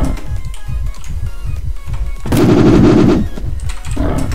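Rapid bursts of video game gunfire crackle throughout, building to a loud, dense volley midway before easing back into scattered shots.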